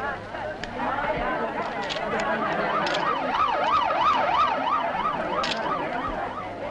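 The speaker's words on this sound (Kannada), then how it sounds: "ಆದಷ್ಟು ಬೇಗ ಎರಡು ಆಂಬ್ಯುಲೆನ್ಸ್ ಕಳಿಸಿ" An ambulance siren at a road accident scene involving what may be a lorry, its rising and falling wail sweeping steadily and growing louder, with a crowd chattering and murmuring underneath.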